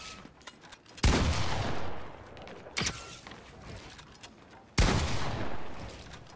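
Fortnite gunfire: three loud, sharp shots spaced a couple of seconds apart, each followed by a long decaying echo over a quieter game background.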